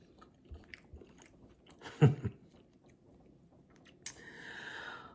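Someone bites into moist, tender meatloaf made from freshly ground beef and chews it. The soft, wet chewing is quiet and close, with one louder bite in the middle and faint squishy mouth sounds around it.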